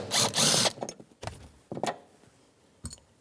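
A 10mm socket tool loosening a bolt on a 2013-2018 Toyota RAV4 tail light assembly, with a loud close whir followed by several short clicking and ratcheting bursts and pauses.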